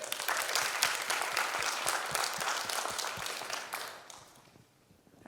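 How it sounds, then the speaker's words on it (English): A sales training audience gives a dense round of applause that holds steady, then thins and fades out near the end. "One more round of applause for them."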